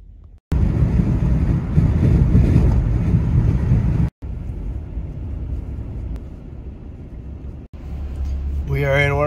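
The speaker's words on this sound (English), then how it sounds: "Boy, is it windy." Strong winter wind blasts against the microphone in heavy gusts in Port Washington, Wisconsin, broken by short cuts, with a voice speaking near the end.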